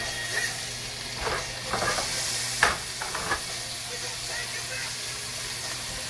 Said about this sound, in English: I want you to see how this is frying up